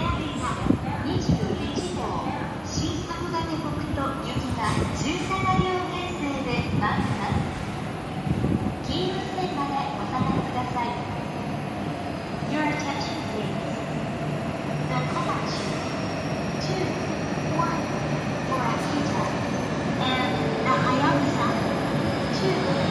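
An E7 series Shinkansen pulls into Omiya Station, a low rumble and rolling rail noise building gradually across the platform while a station announcement plays over it.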